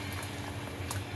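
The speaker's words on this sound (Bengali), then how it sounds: "পুরো কনডেন্স মিল্কটা দিয়ে এটা জাল দিব, ঘন করব দুধটাকে" Milk with a whole tin of condensed milk boiling down to thicken in a pot for a sago milk dessert, a steady low bubbling simmer that runs without pause and without any voices.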